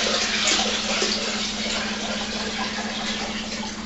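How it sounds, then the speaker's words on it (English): Steady, loud rush of water as a gallon is poured from a pan into a cider fermenter, a continuous broadband splash with an underlying hum, no voices. "I'm just going to fill it up to the line here"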